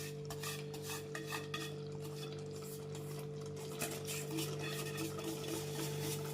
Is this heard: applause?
no